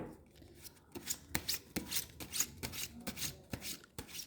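Tarot cards are shuffled by hand: soft, close, faint rubbing and quick papery riffles in a loose rhythm of short bursts, with no talking.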